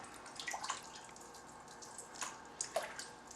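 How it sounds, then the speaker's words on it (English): Paper fiber being broken up by hand in a container of water, soft splashing and sloshing with a few sharper drips and swishes, close and fairly quiet. "I'm just going to put this into the water and break it up by hand to try and disperse it evenly throughout the water."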